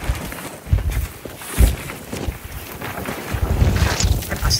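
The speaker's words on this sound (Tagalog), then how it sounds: "Grabe, lakas ng hangin." Strong wind buffets the microphone outdoors at a work site in Nunavut, Canada, a loud continuous roar with gusting surges throughout and no talking.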